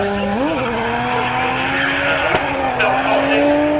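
A drift car at a Castle Combe action day screeches through a slide, its engine note rising and falling over a steady tyre squeal, loud and close, with a commentator talking over it throughout.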